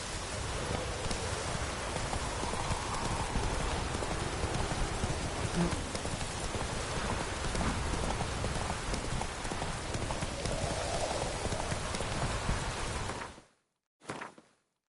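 Roach the horse's hooves clip-clop steadily in The Witcher 3, a dense continuous patter under game ambience that sounds rain-like, running loud and unbroken before cutting off near the end.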